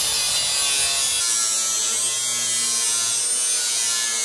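A flap disc on an angle grinder grinds an aluminium pontoon dinghy hull, a loud, steady, harsh whine with gritty rasp that holds unbroken for several seconds, close up.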